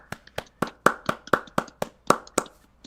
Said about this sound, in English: And let's clap it up for Jenny.